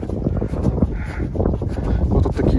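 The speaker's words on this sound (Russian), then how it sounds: "Вот тут такие ветра есть" Gusty wind buffeting the microphone in the mountains of Georgia near Lake Paravani amid snow, a low roaring rumble that rises and falls continuously.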